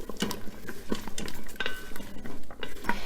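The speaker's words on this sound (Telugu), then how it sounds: "జస్ట్ ఒకసారి మిక్స్ చేస్తాను." A spoon stirs carrot, cauliflower and tomato-onion curry base in a pot for pav bhaji, giving a few soft scraping clinks and wet shuffles at an irregular pace, close and fairly quiet.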